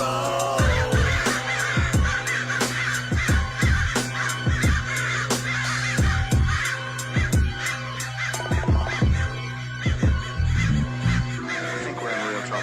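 Crows caw repeatedly as a radio drama effect, harsh calls spaced in an irregular rhythm over a steady low hum, fairly close and loud with no speech.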